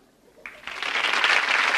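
A television studio audience bursts into applause on cue, starting from near quiet, jumping in after a moment and quickly building into a full, bright wash of clapping that keeps rising to the end.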